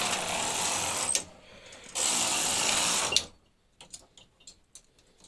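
Knitting machine carriage pushed across the bed to knit rows of ribbing, two loud rushing sweeps of roughly a second each, followed by quieter scattered clicks and ticks.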